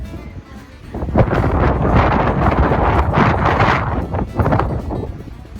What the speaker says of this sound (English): It's a bit blowy tonight